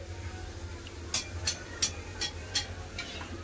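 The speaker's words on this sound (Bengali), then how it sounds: "এই চারটা ভেজে নিয়ে চলুন যাওয়া যায় খাওয়ার কাছে।" Luchi frying in hot oil, a faint steady sizzle broken by a series of six or so sharp, evenly spaced taps or stirs, close and quiet.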